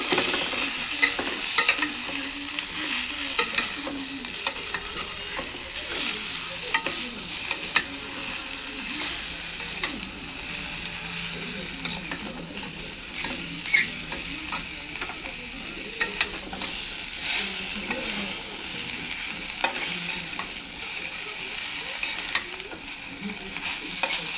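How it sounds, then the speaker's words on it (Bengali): Spiced jackfruit and prawn masala being stir-fried in a pan, with a steady broadband sizzle and frequent spatula scrapes and taps throughout, close and continuous with no voices. "এবার এটাকে ভালো করে কষিয়ে নিচ্ছি।"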